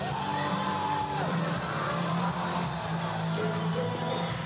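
A live crowd at a wrestling show in Saint-Ambroise yells and whoops throughout, with mixed shouts and cheers filling the venue.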